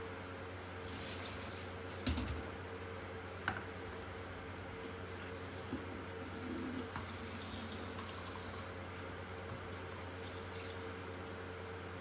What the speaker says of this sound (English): So now I will pour this through a sieve with cold running water to wash away the starch